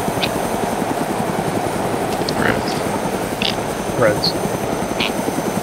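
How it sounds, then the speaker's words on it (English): A steady rhythmic helicopter rotor chop with a whirring engine drone fills the clip, from a helicopter in the video game ArmA 2 DayZ mod, with brief voices talking over it. "we have a helicopter, and it's working"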